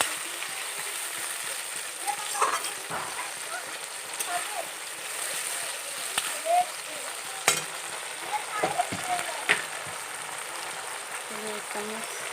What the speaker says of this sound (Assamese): এইখিনি ধুনীয়াকৈ আদা নহৰু কেঁচা গন্ধ যোৱালৈকে ভাজি থাকিব।